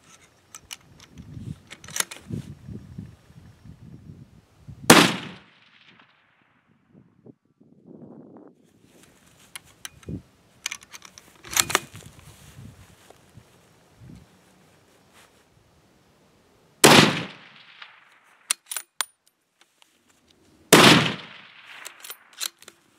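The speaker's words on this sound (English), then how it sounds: "so I'm going to take my first shot" Four loud, sharp rifle reports from a Remington 700 SPS Tactical in .308 firing ball ammunition, spaced several seconds apart, each with a short echoing tail, between stretches of quiet handling noise and faint rustling outdoors.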